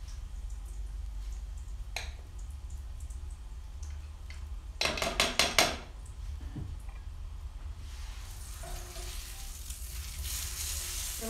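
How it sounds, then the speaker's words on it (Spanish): A tortilla is flipped and cooked on a hot pan while enmoladas are being made. A soft, steady frying sizzle runs throughout, with a louder burst of crackling sizzle in the middle and a rougher hiss toward the end. No one speaks. "Volvemos a dar vuelta a la tortilla, que quede más o menos media infladita, que no se haga dura"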